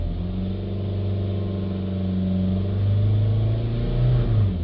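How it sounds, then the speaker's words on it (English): A BMW 320d diesel engine with a newly fitted turbo and an exhaust backpressure sensor and particulate filter fault is revved, a loud, close, steady drone that rises and falls slightly. "so if I rev it up"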